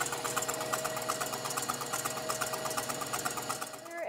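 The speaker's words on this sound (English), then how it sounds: "You don't want to mix them at too high of a speed because you're just going to be whipping out any air that you put in." Electric mixer whipping egg whites at medium-high speed for a berry soufflé, a steady close motor whir with a rhythmic beater rattle running continuously.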